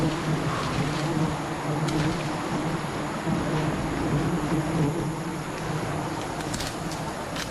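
Dense, steady buzzing of a swarm of wild honey bees around a tree on a steep, rocky bank beside flowing water, continuous and close with no pauses.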